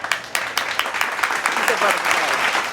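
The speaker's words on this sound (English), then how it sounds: "Give yourself a round of applause" Applause from a live audience, prompted by a motivational speaker, with dense continuous clapping at moderate loudness filling the whole stretch and a voice speaking over it.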